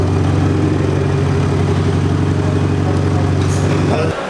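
A loud, steady low engine rumble from a Mercedes X-Class's active sound system drones continuously at idle, close up, and drops off slightly right at the end.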